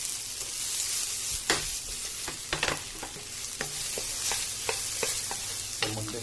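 Pork sizzles in a hot pan while a utensil stirs it, a continuous fizzing crackle broken by repeated scraping clacks at an irregular rhythm, close and clear with no talking.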